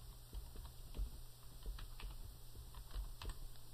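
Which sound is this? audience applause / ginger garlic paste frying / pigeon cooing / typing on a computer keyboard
typing on a computer keyboard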